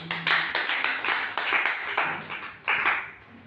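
A church congregation clapping hands together, dense overlapping claps in uneven waves with a couple of fresh surges before fading slightly.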